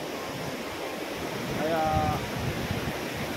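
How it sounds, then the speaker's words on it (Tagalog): Strong, fast-flowing river water rushes over rocks outdoors in a steady broadband roar that swells slightly midway, with a brief voice and some wind buffeting over it. "Malakas ang pupot ng tubig, pero maganda."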